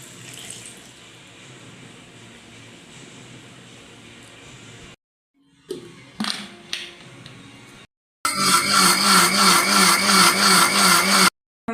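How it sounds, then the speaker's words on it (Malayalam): An electric mixer grinder jar blends pachadi ingredients with a little water: after quiet gaps and a few clattering knocks, the motor kicks in with a loud, pulsing whirring grind for about three seconds, then cuts off. "ഇത് ഒരു ജാറിനകത്തോട്ടിട്ട് നന്നായിട്ട് അരയ്ക്കണം"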